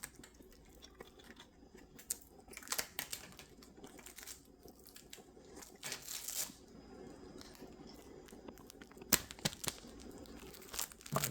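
Protective film is peeled off new PC parts for a Ryzen 7 7800X3D build, heard as quiet crinkling and tearing rasps in irregular short bursts, close but soft, with no talking.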